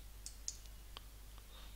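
A computer mouse clicking on a login button, a few soft, sharp little clicks spaced apart over a quiet background hum.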